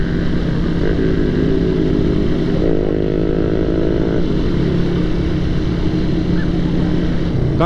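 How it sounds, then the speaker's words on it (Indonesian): A motorcycle engine buzzes past on a busy street at night, a close, loud rasping drone with a rising pitch sweep midway, over constant traffic noise. "Suara motor."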